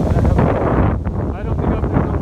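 Wind buffets the microphone in heavy, uneven gusts for a couple of seconds, loud and close, outdoors beside a hayfield.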